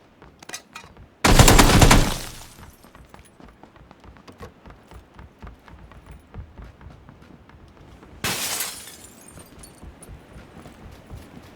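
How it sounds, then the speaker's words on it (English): Gunfire from an enemy player in the video game PUBG: two sharp, loud bursts of rapid shots roughly seven seconds apart, with quick running footsteps and small movement sounds in between. "And he's shooting at me because he knows I don't have a weapon."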